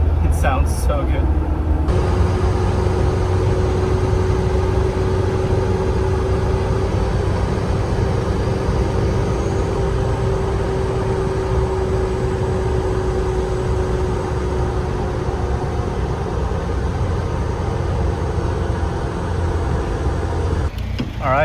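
Continuous carbureted engine rumble heard from inside a moving 1985 Mitsubishi Pajero, low and steady, with a thin sustained whine running through most of it.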